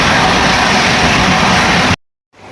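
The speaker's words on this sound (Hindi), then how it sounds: "train number 12951 Mumbai central new Delhi Tejas राजधानी एक्सप्रेस के साथ में क्रॉसिंग" Mumbai Central–New Delhi Tejas Rajdhani Express train passing close by, a loud steady broadband roar of rushing wheels and air that cuts off abruptly, leaving near silence before faint noise returns.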